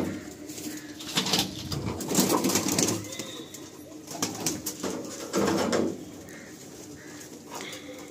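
Madrasi pigeons coo in a loft, with repeated close-up calls rising and falling over a few seconds and occasional fluttering bursts in between.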